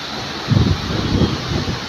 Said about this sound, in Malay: Kencang angin guys.